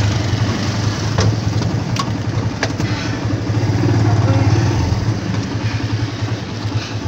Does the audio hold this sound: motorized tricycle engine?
yes